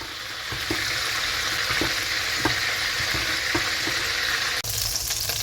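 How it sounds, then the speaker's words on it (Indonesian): Garlic sautéing in a reduced amount of oil, a steady loud sizzle with regular soft scraping strokes of a spatula and a brief clatter near the end, no voices. "saya mau tumis dulu bawang putihnya teman-teman"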